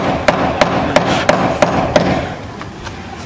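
A hammer strikes repeatedly while a wall is being built outdoors, sharp close blows about every third of a second that grow fainter and sparser toward the end.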